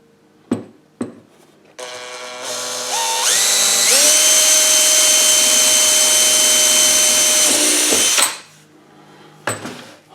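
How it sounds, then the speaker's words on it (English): A power drill whirs up to a steady high-pitched whine, holds for several seconds, then winds down, with a few sharp clicks before and after, drilling a hole to install an hour meter on a Honda snowblower. "Just let the drill bit do the work."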